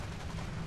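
Anti-aircraft flak gun firing in the War Thunder video game, a short faint burst of dense, continuous gunfire with no one talking over it.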